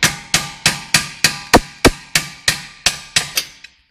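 Around a dozen sharp, evenly spaced metallic hammer taps, loud and close, drive a track rod end joint into place on an Audi A4 during suspension repair, with no talking.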